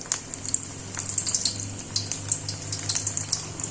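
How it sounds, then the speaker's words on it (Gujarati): Methi muthiya balls fry in hot oil, giving a close, steady crackle with sharp bubbling pops throughout, and no one speaking. "હવે આ બધા બોલ્સ છે તેને આપણે ગરમ તેલમાં તળી લેશું।"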